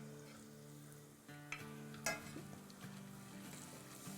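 Red chili powder, cumin, paprika and salt fry in a pan for enchilada sauce, a faint, steady sizzle with a few stirring scrapes and no talk.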